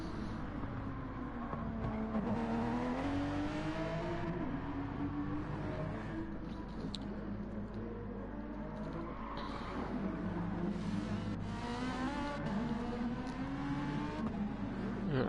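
Race car engine in a Gran Turismo GR3 race at the Nürburgring GP circuit, revving and shifting through gears with rising and falling whines, steady and moderately loud with no talk.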